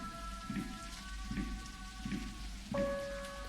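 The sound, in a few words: rain falling in a horror video game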